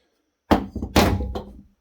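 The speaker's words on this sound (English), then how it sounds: "gets the sledgehammer treatment after I throw it at my glass door" A failed hard drive from a TrueNAS array hits a glass door hard, giving a loud close thunk followed by a second heavy impact and a short rattling clatter, with no voices.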